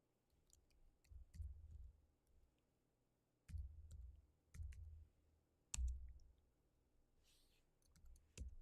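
Someone types on a computer keyboard in short, sparse bursts of quiet clicks, each group separated by pauses, with faint dull thumps under the keystrokes in an otherwise quiet room.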